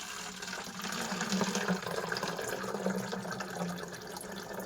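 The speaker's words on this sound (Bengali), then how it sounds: "এতে একটু জল দিই" A little water is poured into a pot of milk about to be set on the stove, giving a steady, close splashing trickle that runs for several seconds without pause.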